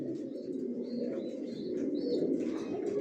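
Pigeons coo softly and steadily inside a newly bedded loft, a continuous low murmur of overlapping calls with a few brighter chirps above it.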